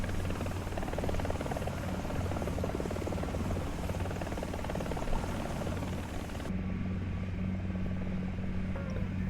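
An AH-64DJP attack helicopter in the War Thunder video game, a steady loud rotor thrum and engine drone throughout, with the sound cutting to a duller, muffled tone near the end.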